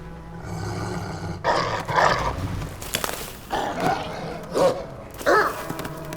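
A dog growls and roars in Assassin's Creed Valhalla, in the Asgard setting. The snarls come in several rough, close bursts over a low ambient hum.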